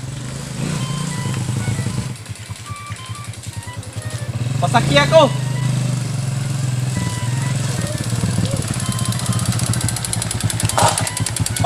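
A motorcycle engine idles and revs nearby with a steady throbbing rumble that rises briefly in the middle, while people talk over it.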